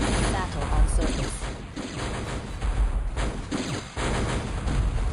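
Battle gunfire in the real-time strategy game Metal Fatigue: dense, continuous volleys and bursts of shots with booming impacts, loud and sustained throughout, a voice briefly heard over the din.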